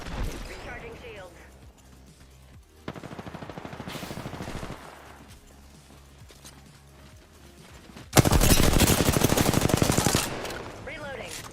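Rapid gunfire bursts out in a video game, with two long loud rattling volleys and quieter shots in between, backed by game sound effects.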